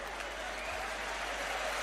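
A crowd at a FIBA U18 European Championship basketball game between Slovenia and Serbia, the third-place match, applauds with steady, sustained clapping that fills the arena evenly throughout.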